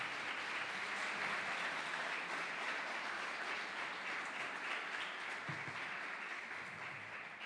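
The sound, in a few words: congregation applause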